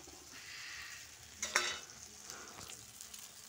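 Chicken pieces hit hot masala in a pan for a Bengali red chicken curry, giving a sharp sizzling burst over a steady frying hiss, followed by quieter scraping stirs.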